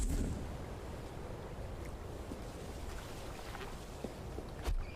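Open North Atlantic sea around a small fishing boat, a continuous wash of waves and water against the hull mixed with gusty wind buffeting the microphone, steady and fairly loud with a brief splash near the end.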